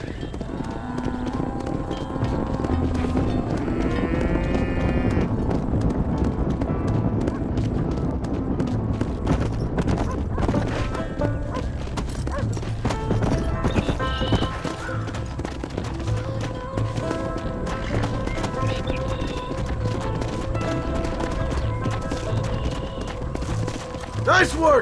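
Horses in Red Dead Redemption gallop as they are herded into a pen, giving a dense, continuous clatter of hooves with occasional snorts and game voices over the top.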